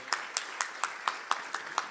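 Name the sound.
congregation applauding in church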